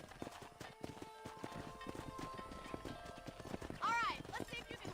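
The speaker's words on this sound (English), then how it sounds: "Whoa! Control that horse" Horse hooves clip-clop steadily in the Red Dead Redemption video game, with a short whinny near the end, all under ongoing talk and game dialogue.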